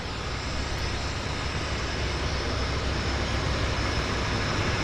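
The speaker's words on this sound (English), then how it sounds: "we got a Twin Otter taxiing off stand, off dock" A de Havilland DHC-6 Twin Otter floatplane taxis away from the dock at a Vancouver float base, its turboprop engines producing a steady, broadband roar that holds constant throughout, fairly close and loud.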